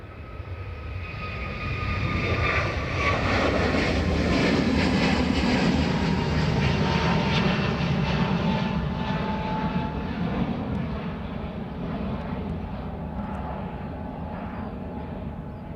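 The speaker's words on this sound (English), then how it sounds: "There's clearly a plane in the test bay." A plane's engines run at high RPM in the test bay at Dublin Airport, a steady loud roar with a whining tone that swells slightly and then holds for the whole stretch. Nobody speaks.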